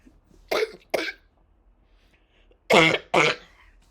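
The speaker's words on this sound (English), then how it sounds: "We got a bit of a cough from whatever this is" Two pairs of short, sharp coughs, a quick double cough, a pause, then another louder double cough, close by in a quiet room.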